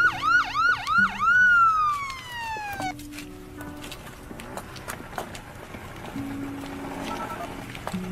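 A police car siren wails loudly in rising-and-falling sweeps for about three seconds, then cuts off, leaving quieter street ambience with a few faint tones behind.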